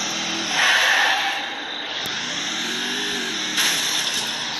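A motorbike in the Free Fire video game revs and rides along at moderate volume, engine tone swelling and easing with a brief skid-like burst and game ambience around it.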